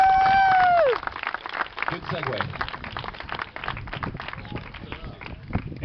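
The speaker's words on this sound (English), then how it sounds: "So how about a nice round of applause for Roland?" After a brief tonal whistle, an audience at a 2012 domestic violence task force walk breaks into steady applause for Roland, with crisp claps spread across the crowd and someone speaking briefly over it.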